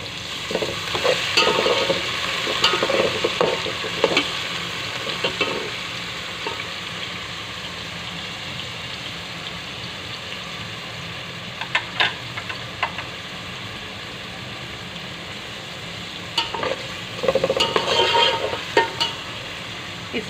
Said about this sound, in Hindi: मैंने पतीली में ऑयल डाला। ठीक है, फिर इसमें ज़ीरा डाला और ये चॉप ऑनियन आधी अभी हमने डाली